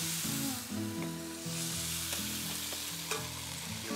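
Bourbon hits a hot plate holding beef burgers and cheese at a camp cookout, giving a loud, steady sizzle with crackling bursts throughout, with no talking over it.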